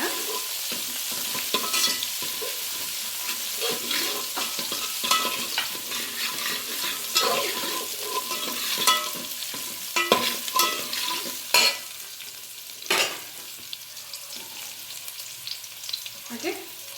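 Onion and mint leaves frying in oil for a goat head meat curry, a loud, continuous sizzle with frequent spatula scrapes and clinks against the pan for a long stretch, with no talking.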